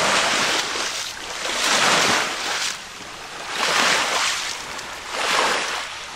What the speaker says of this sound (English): And there's some waves crashing on the shore here.